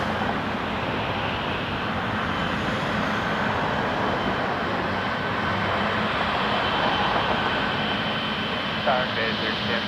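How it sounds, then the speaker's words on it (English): A Boeing 777-300 departing Toronto Pearson Airport, a loud, steady broadband engine roar that holds without a break. "And then we're going to see 777-300 depart."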